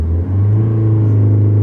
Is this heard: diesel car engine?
yes